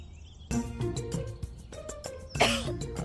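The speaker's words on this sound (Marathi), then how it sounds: "धुळीचा त्रास होतो मला. सकाळी घराची साफसफाई केली होती ना, तर आत्ता खोकला येतोय." A person coughs several times in quick, harsh bursts, close by, with a brief throat-clearing between them.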